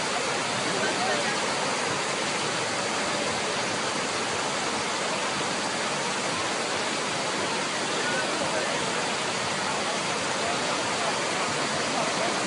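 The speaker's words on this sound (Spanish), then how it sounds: "el agua va y entra dentro de ese hueco" Water pours steadily into a hole at a site in New York, a loud, constant broadband rush with no break in its level.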